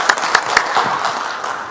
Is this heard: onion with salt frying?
no